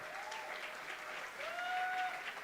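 A church congregation claps faintly and continuously in the background during a worship service, with soft sustained tones from singing or music rising over the applause.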